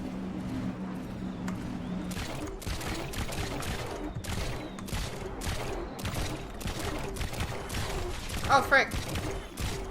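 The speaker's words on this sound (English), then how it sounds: "I'm getting shot" Gunfire bursts rattle against a boat in the building game Trailmakers, coming as dense repeated impacts through most of the stretch, with a player's voice exclaiming over the barrage.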